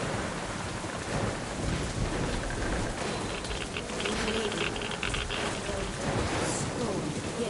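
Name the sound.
thunderstorm with rain in video game Metro: Last Light Redux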